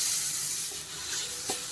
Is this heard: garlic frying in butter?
yes